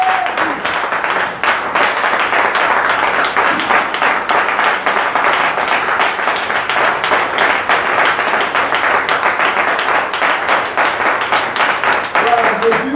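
A church congregation at a revival service breaks into sustained, loud applause to acclaim the Lord, a dense even clatter of many hands clapping steadily for the whole stretch.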